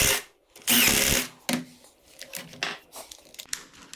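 Impact driver boring out a hole to enlarge it on a gouge carving attachment for a spoon mule, short bursts of harsh whirring and grinding with brief pauses between and clattering handling noises.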